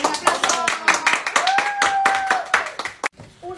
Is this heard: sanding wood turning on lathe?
no